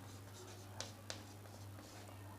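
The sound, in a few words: writing on the board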